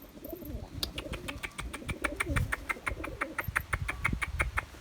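Pigeons coo in soft repeated calls in a loft, with a steady series of high chirps and light rustling throughout, close and moderately loud, no talk.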